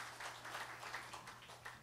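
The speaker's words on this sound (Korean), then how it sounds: "오늘 오셨으니까 박수로 환영해 주십시오" Faint, brief applause from a worship-service congregation welcoming a guest, soft scattered clapping heard at a distance.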